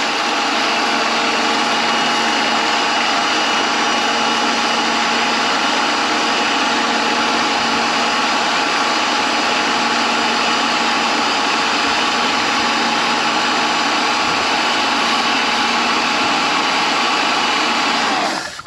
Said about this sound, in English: stubby gun with the nozzle removed just to mix that up